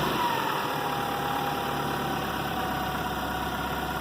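A 1996 Toyota Camry engine with an EGR fault runs at raised RPM, a steady, even mechanical hum with a faint high whine, heard close and continuous with no talk.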